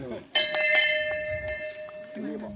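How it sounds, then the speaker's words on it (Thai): A bell is struck to open a school sports day at Ban Nong Yao School in Thailand, giving two or three bright metallic clangs that ring on and fade against a faint background voice. "ขอเรียนเชิญท่านประธานนะคะ ได้ลั่นระฆังนะคะ เพื่อเป็นการเปิดงานนะคะ"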